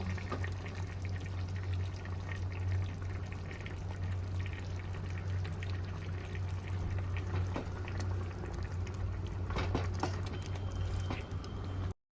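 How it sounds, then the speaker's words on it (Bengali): Fish curry at a rolling boil in a pot with fried fish and eggplant going in, a steady bubbling simmer with soft splashes and patter, moderately close with no talking. "ঝোলটা ফুটে গেছে এবার আমি ভেজে রাখা মাছগুলো দিয়ে দেবো বেগুনগুলোও দিয়ে দেবো"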